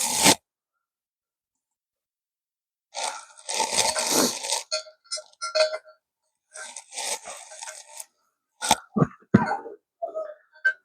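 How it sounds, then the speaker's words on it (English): A man still getting over the flu coughs in a workshop while installing an exhaust manifold, with a few rough coughing bursts separated by silence and then some short sharp coughs near the end. "I still have a cough from the flu that I had quite a few weeks ago"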